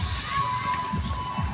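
Busy crowd at the Dangadi picnic spot in Jharkhand, with children shouting and many people milling about in a steady, close, lively din of voices and movement.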